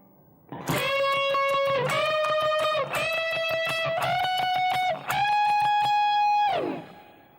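Electric guitar closing a song's solo with a few long sustained single notes, some bent and held, through an effected, slightly distorted tone, played loud and alone before fading out.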